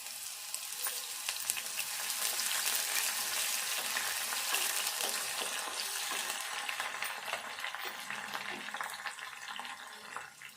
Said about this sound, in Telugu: ఈ ఉల్లిపాయ ఇట్లా వేగినాక దోరగా ఇప్పుడు ఈ ఉల్లి కాడలు వేసుకుందాము